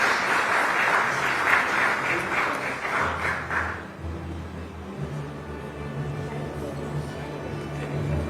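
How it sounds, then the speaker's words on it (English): A crowd at a business conference claps steadily for a few seconds after a panel discussion, then the applause stops abruptly, leaving a low hum of room noise. "big round of applause for this lovely panel."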